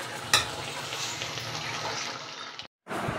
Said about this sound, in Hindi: अब हम इसे मिक्स करके हल्की आंच पर पकने के लिए छोड़ देते हैं ताकि गुड़ अच्छे से मेल्ट हो जाए